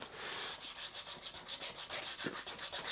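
Hand sanding of a lacquered wooden guitar neck on a Flying V build: rhythmic back-and-forth rubbing strokes, about a dozen close, even scrapes with no talking.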